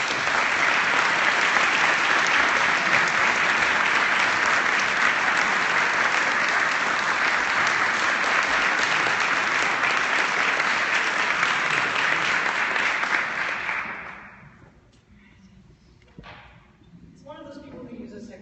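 A large lecture audience applauds to welcome a guest lecturer, a dense, steady wash of clapping that holds for about fourteen seconds before fading out, followed by faint room noise and the start of a voice.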